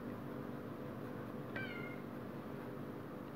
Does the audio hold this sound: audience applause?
no